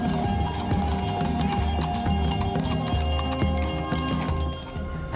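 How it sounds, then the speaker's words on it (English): Horse-drawn carriage moving through the streets of Seville, hooves clip-clopping steadily amid a dense, busy street din with music and crowd noise, continuous and moderately loud. "Horse carriages move through the streets, part tradition, part everyday life."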